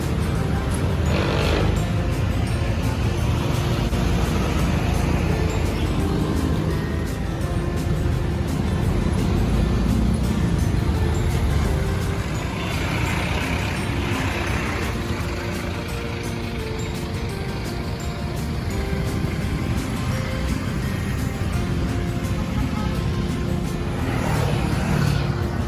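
Road traffic flows near Quezon Bridge in Manila, heading toward Recto and Quezon Avenue: a continuous wash of passing cars, trucks and buses with engine surges and swells, heard from nearby at a steady moderate level.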